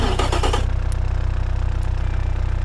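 Toyota 22R-E inline-four engine in the Automation car-building game, tuned with a better camshaft, exhaust and intake, starts with a brief rev and then settles into a loud, steady idle drone.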